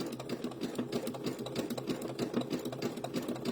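A sewing machine stitches Sunbonnet Sue and Sam quilt blocks, a quiet, fast, steady mechanical chatter with an even pulsing rhythm and no voices.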